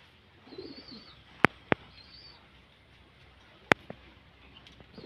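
Pigeons on a rooftop give a few soft, low coos while being fed homemade grain feed, heard faintly beneath a steady outdoor hiss and a couple of sharp nearby clicks.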